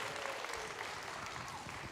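An audience applauds a curly-furred dog named Joey at a pirate-themed dog show, a steady wash of clapping from a crowd at moderate distance with faint voices mixed in.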